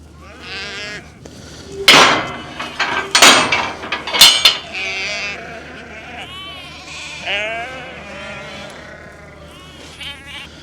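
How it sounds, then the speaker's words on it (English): Several sheep bleat repeatedly and loudly nearby, overlapping calls with some clanking in between. "These sheep are wanting some"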